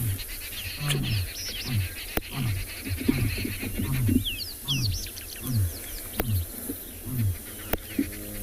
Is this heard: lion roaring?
yes